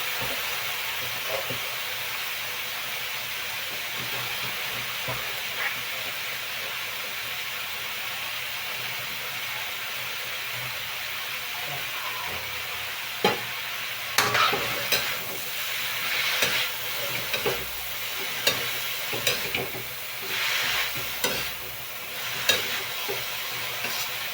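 Bitter gourd (ampalaya) frying in a pan, with a steady broad sizzle throughout that brightens and grows more uneven in the second half as the slices are stirred, producing scraping clatters.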